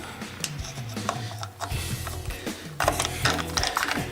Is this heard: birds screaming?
no